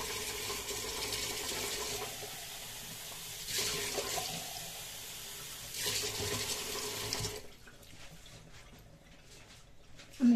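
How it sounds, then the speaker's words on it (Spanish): Water runs steadily from a kitchen tap while cooking fish with homemade tomato sauce, a broad hiss with a few surges before easing off, then quiet remains. "Voy a echarme un poquito de agua"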